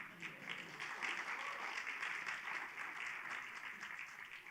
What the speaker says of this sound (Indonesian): Cuman segitu tepuk tangannya.